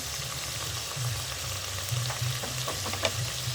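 Chicken pieces coated in ginger-garlic paste fry steadily in a pan for a Bengali chicken chowmein, giving a continuous close sizzle with occasional stirring scrapes and spatters.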